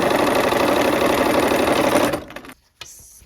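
A sewing machine stitches a fabric square onto a rectangle for a Wild Goose Chase quilt block in a loud, steady run. It stops abruptly near the end, leaving a short silence and a soft click.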